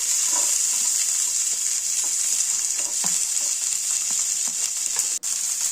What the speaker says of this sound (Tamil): காஞ்ச உடனே நம்ம எடுத்து வச்சிருக்க நூற்றம்பது வெங்காயத்தை போட்டுக்கலாம்